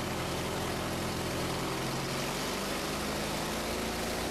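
An RV-8 aircraft engine is run up to higher RPM. A loud, continuous propeller-engine roar fills the sound at close range, and its low drone shifts in pitch as the revs change.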